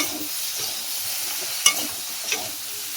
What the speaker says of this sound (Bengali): ভালো করে আরও ভেজে নেব।